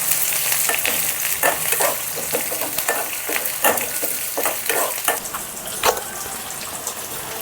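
Coriander stems, curry leaves and dried red chilies fry in oil for a South Indian radish sambar tempering, crackling and sizzling up close with repeated sharp pops and stirring clatter, and no voices.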